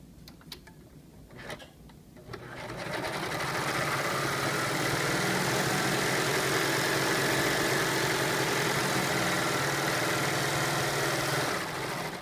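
A serger sewing machine chains off a narrow rolled hem at a corner. A few quiet clicks come first, then a loud, steady, buzzing motor drone runs continuously for about nine seconds.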